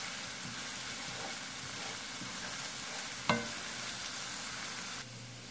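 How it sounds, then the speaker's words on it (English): Onions and mushroom frying in a pan for an omelette, a steady soft sizzle that runs throughout, with one sharp clink or scrape near the middle before the hiss drops a little toward the end. "I'm going to cook this for about 3 or 4 minutes just so the onions can get a little translucent"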